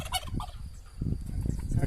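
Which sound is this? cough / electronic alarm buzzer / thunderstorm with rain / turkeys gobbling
turkeys gobbling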